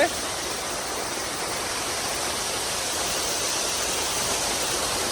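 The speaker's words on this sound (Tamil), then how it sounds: "இங்கே ஒரு ஃபால்ஸு இது ஒரு குட்டி ஃபால்ஸாக இருக்கு" Small roadside waterfall on the ghat road up to Valparai, a steady, even rush of falling water close by, filling the whole stretch without pause and with no other sounds on top.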